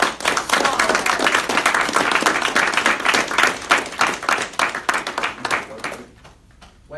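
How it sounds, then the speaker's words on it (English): A seated audience at a live opening-monologue show gives a big round of applause, dense sustained clapping for about six seconds that then thins out and fades to quiet. "let's give a big welcome and a big round of applause to Mr. Al DeSarro."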